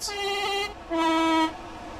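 Train horn on the Brighton Mainline in Train Sim World 4 blasting two loud, sustained two-tone notes in succession, close and steady with a slightly funky pitch.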